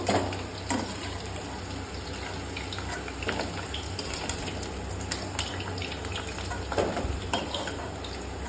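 Potatoes frying in a pan of oil for an Indian-style potato, pointed gourd and paneer dish, a steady broadband sizzle with occasional louder crackles and stirring scrapes, close and continuous with no talking.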